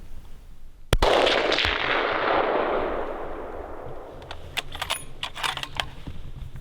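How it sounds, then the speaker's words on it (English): A single loud rifle gunshot fired at a moose during a British Columbia hunt, a sharp crack followed by a long rolling echo that fades over several seconds, with faint scattered clicks and rustles afterward. "Shoot him again."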